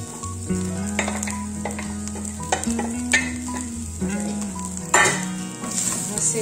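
Ground beef sautéing with a large chopped onion in a pan, loud close frying sizzle broken by spoon scrapes and knocks against the pan, with a steady low hum running beneath for most of the stretch.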